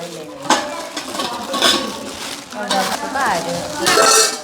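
Steel tea and curry vessels clink and clatter in a busy kitchen, with scattered metallic knocks and a voice talking faintly in the background.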